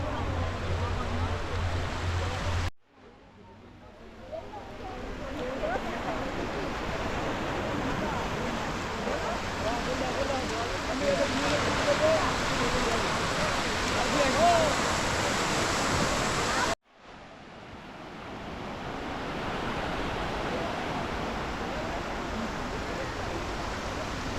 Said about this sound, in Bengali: ঢেউটা আসছে দেখো কি সুন্দর লাগছে চারিদিকে